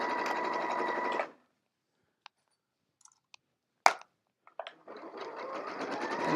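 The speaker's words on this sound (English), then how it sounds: "I'm going to back stitch beginning." Domestic sewing machine stitching a seam on a zip pouch, with a steady run of close mechanical whirring, a pause with a few light clicks, then the machine starting again and running on.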